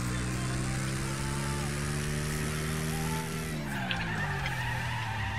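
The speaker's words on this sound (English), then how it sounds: "And I spun you out, that's all I was trying to do." A car in a driving video game spinning out with a long tire skid over a droning engine whose pitch drops near the end as a voice talks.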